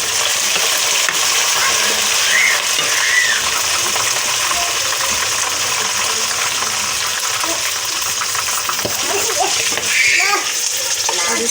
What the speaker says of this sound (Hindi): ये मिर्ची आवाज़ हो रही है